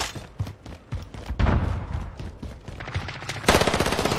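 Rapid automatic gunfire in a shooting video game, bursts of close shots that end in a long, dense volley, with no talk.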